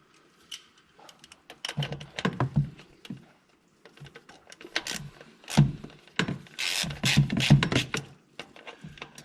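Bolts being tightened on a Honda Pioneer 1000-5 side-by-side during a service, heard as intermittent close ratchet clicks and metallic rubbing in short irregular bursts with quiet pauses, no voices.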